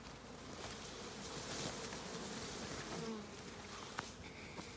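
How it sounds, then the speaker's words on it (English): Dense, steady buzzing of a large mass of honeybees swarming around beehives with late summer nucleus colonies, a continuous close hum filling the air with no talking. "It's a bit of a sea of bees at the moment."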